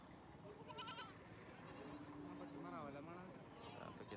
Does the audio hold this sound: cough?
no